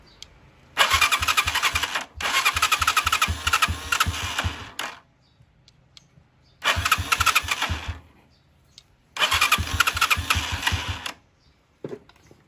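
Motorcycle electric starter cranking the engine in a workshop, three loud bursts of whirring, pulsing crank separated by short pauses, close and without talk.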